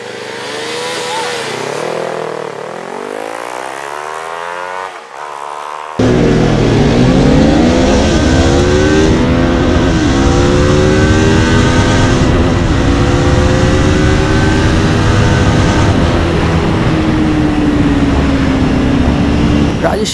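A KTM Duke 390 and a Kawasaki Ninja 400 drag race: the engine revs and climbs at the start, then both bikes roar loud and close at full throttle through rising gears for the rest of the run.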